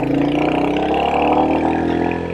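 A Royal Enfield Hunter 350 motorcycle engine hums steadily while riding, a loud continuous mid-pitched drone with slight rises in revs, close and with no voices.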